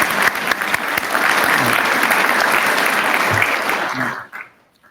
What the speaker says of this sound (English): please give them a round of applause for their support